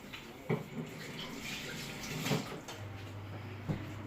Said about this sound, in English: I'm washing it with soap and giving it a nice good scrub